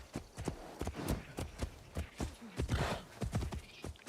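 Horse hooves galloping in a video game, a fast rhythmic clip-clop of repeated strikes that runs throughout, fairly close and loud.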